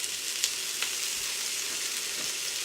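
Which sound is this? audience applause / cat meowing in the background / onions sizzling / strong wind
onions sizzling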